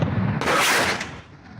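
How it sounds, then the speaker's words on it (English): Artillery shells fired by Syrian batteries in the Deir ez-Zor fighting against ISIS land in a single loud, rumbling blast that fades into a rolling tail, with no talk. "As we filmed, shells began falling all around. We ran, but the Syrian batteries kept firing."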